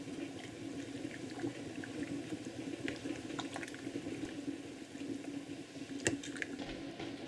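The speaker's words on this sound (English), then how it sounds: "you want to heat this over medium-high heat until it starts to simmer" Peach and tomato salsa with roasted peaches simmers in a pot over medium-high heat, giving a continuous soft bubbling and popping with a few sharper pops, close and low in level.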